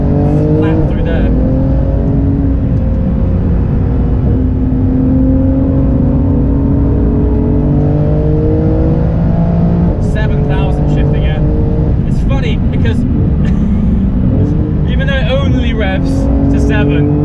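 A Porsche GT2 RS accelerates at full throttle, its engine climbing steadily in a loud, sustained run for about seventeen seconds, with someone talking over it.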